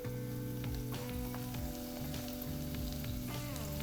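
Hot oil sizzling as chili flakes and sesame seeds are poured in, a continuous fine crackle and hiss heard at moderate level with no voices, accompanied by low, steady musical tones in the background.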